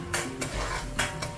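Doubanjiang being stir-fried in a wok over low heat for mapo tofu with beef, a few quick metallic scrapes of a spatula against the wok with a faint sizzle between strokes.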